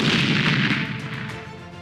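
Artillery fire in the Russia-Ukraine war: one heavy, booming blast hits loud at once, then rolls off into a slowly fading rumble with no voices.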